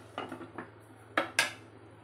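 A metal lid lifted off a cooking pot of ridge gourd and yellow gram dal, a few light scraping clinks followed by two sharper metallic clanks, close and fairly quiet in an otherwise still kitchen.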